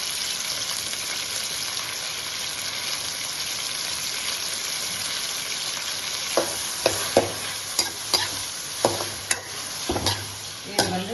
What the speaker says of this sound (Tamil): இது கூட இந்த தக்காளி கூட சேர்த்து தக்காளியும் இதையும் வதக்கணும்